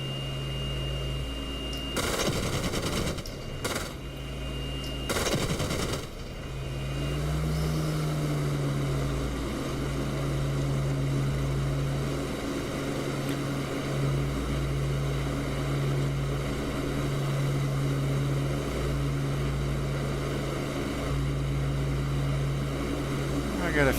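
A de Havilland Mosquito propeller aircraft drones steadily in flight in the DCS combat simulator, a constant engine hum running throughout after a few loud explosive bursts near the start.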